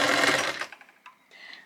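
A sewing machine drives a short straight stitch through gathered denim from old clothes, a brief loud burst that quickly stops, followed by a couple of faint clicks and rustles.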